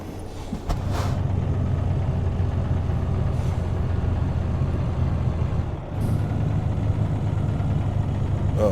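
A truck engine idles in American Truck Simulator, a steady low diesel rumble throughout with a short hiss of air near the start and another near the end.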